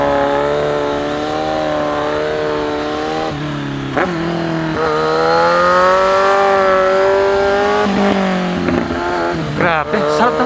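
Kawasaki Z1000 motorcycle engine on a small race track, loud and close with a steady high drone and climbing revs, then blips and shifts near the end.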